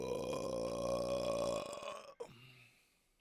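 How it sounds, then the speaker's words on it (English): A person lets out a long, loud, low burp lasting over a second, then it trails off and a short, quieter second burp follows, with no talking. "I have to burp."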